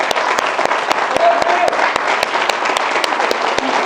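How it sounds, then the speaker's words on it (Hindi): An audience at a wellness business bootcamp claps loudly and continuously, dense applause with sharp rhythmic claps standing out, filling the whole stretch. "एक बार दिल से सारे फिर से एक बार तालियां बजाएंगे उनके लिए"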